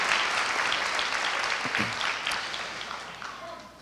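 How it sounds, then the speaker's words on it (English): Sustained audience applause for a departing school principal fills the room at steady volume, dense clapping that tapers slightly toward the end, with a few faint voices underneath. "Can we please give him a great round of applause?"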